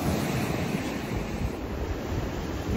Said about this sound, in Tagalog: Super duper naman yung grabe ng alon.